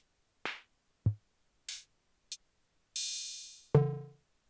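Arturia DrumBrute Impact analog drum machine playing single separate hits one after another: a snare, a low kick, short hi-hat ticks, an open noisy cymbal and a pitched tom, dry and close.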